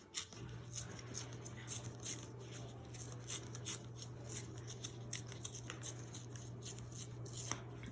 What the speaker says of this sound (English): Just tear a little bit off the edge of this diamond plate patterned paper.